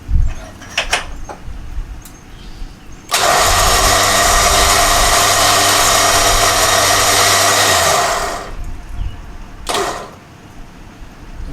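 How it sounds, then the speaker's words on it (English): Electric winch on a Dirtbound Off-Road bumper fitted to a Jeep Cherokee XJ whines steadily for about five seconds as it pulls in, loud and close, with quieter outdoor noise before and after. "Here's the moment of truth to see if this winch works."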